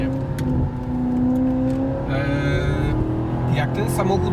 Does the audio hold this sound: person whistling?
no